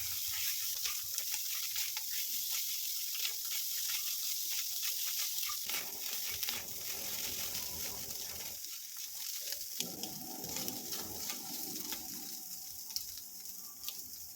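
Crushed chicken is stirred into masala in a hot pan, giving a continuous soft sizzle with scraping and stirring textures that shift in intensity partway through, without talk.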